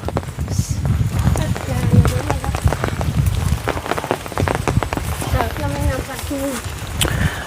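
Rain patters steadily on surfaces around a rural village road where a water buffalo is being led, with close splashing and dripping throughout while people talk over it.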